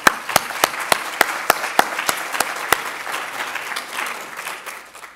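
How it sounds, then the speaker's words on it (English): Applause from an event audience, opening with sharp distinct claps that thicken into a steady, dense round of clapping before gradually tapering off. "So please give Nancy a big round of applause."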